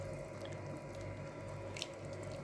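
Boiling water pours onto meat in a pot, a soft continuous watery rush with faint drips and splashes, low and steady with no talking.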